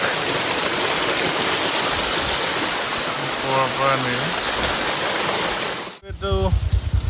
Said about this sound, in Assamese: এইটো এটা ৱাটাৰফল চাওক, সৰু পানী পৰি আছে পুৰা